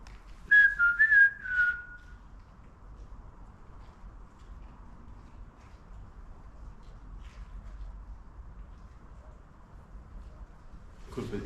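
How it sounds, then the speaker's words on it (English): In a railway tunnel, a short burst of sharp, trilling whistle blasts near the start, then a long stretch of quiet low background hum, ending with a brief noisy rustle. "It could be a football whistle"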